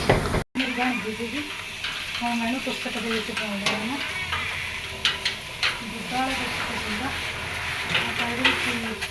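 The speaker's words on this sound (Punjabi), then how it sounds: "ਮੇਰੀ ਵੀ ਤੜਕਾ ਲਾ ਰਹੀ ਹਾਂ" Spices for tadka sizzle and crackle in hot oil in a home kitchen pan, with stirring scrapes and bursts of frying throughout, while someone talks over the cooking.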